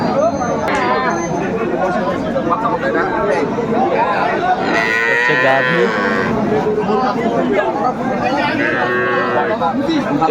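Dairy cows and calves moo loudly and repeatedly, close by, at Aftabganj cattle market in Dinajpur, over a constant background of crowd chatter and people talking.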